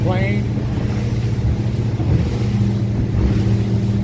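Grady White 228 boat, a 2014 model, throttling up toward planing speed, a loud steady engine drone with rushing water and wind buffeting the microphone; a voice is heard at the start.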